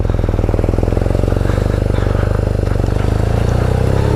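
A new motorbike's engine idling just after start-up, heard up close and loud as a steady, rapid, even thumping throb that continues throughout.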